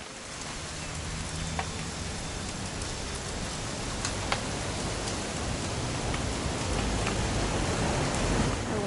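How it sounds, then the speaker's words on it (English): Rain pouring in What Remains of Edith Finch, a broad continuous wash of falling water with a low rumbling undertone and scattered sharper drops, steady and without voices. "It's gonna rain the whole weekend"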